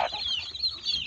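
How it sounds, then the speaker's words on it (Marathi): A hen clucks softly while feeding her chicks on a farm; a brief, fairly faint burst of clucking and cheeping close by. "सर्व पिल्ले मिळून कोंबडी त्यांना खाऊ घालत आहे."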